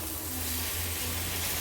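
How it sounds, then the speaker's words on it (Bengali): Kochur loti (taro stolons) fry in a pan with a soft, steady sizzle and hiss that stays faint and continuous throughout. "আর একটু লাল লাল করে ভেজে নেব।"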